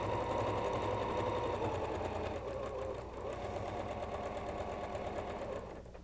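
Sewing machine stitching quilt triangle pieces, a fast steady mechanical whir and rapid needle chatter running continuously, close and loud, slowing slightly near the end.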